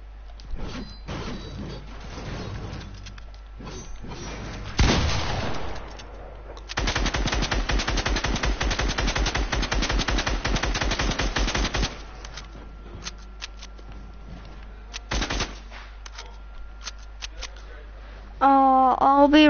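Gunfire in a video game: a few scattered single shots, then a long sustained burst of rapid automatic fire, followed by more isolated bangs, with a voice talking at times.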